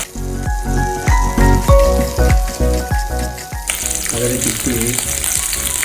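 Onion and capsicum fry in a pan while cooking a Maggi Manchurian. A loud, close sizzle is broken by rhythmic scraping stirs, then settles into a steady hissing fry.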